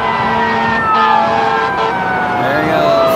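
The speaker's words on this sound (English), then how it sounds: "More sirens coming to help." Emergency sirens wail loudly and close by as vehicles head to a business fire off the I-15 in St. George, Utah, several rising and falling tones overlapping over traffic rumble.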